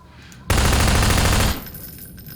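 Rapid burst of automatic gunfire from a video game, triggered as secondary fire on a joystick, loud and continuous for about a second before cutting off to quiet room tone.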